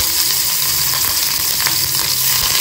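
Garlic and ginger fry in a little oil in a pan, a loud, continuous close-up sizzle with faint stirring scrapes and no pause.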